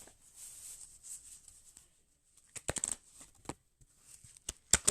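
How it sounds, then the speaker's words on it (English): A deck of cards riffled and shuffled nearby, a soft whirring riffle followed by several sharp flicking snaps in quick bursts. "Let me shuffle the deck."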